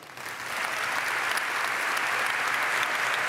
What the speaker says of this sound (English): Maybe if you can give a round of applause to summon something.